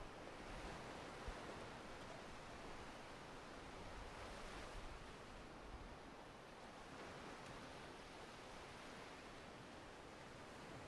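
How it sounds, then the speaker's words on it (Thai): Ocean waves wash in a continuous, even roar of surf with a faint windy hiss, steady and distant with no speech over it. "แต่ว่ายังเป็นคลื่นอยู่นะอันนี้"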